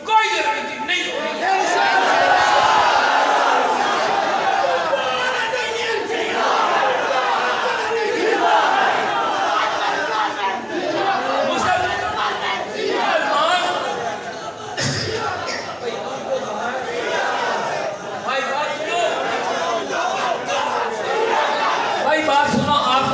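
Crowd at a Muharram religious gathering in a mosque in Chiniot shouting slogans, a loud massed roar of voices rising and falling with a speaker's amplified voice cutting in over the clamour throughout.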